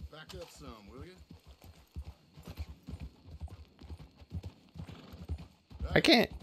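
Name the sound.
horse hooves in video game Red Dead Online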